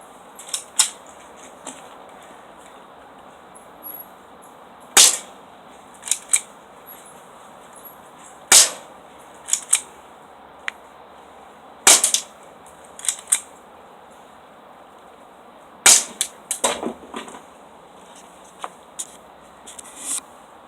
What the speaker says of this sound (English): I'm only going to shoot the lenses of the glasses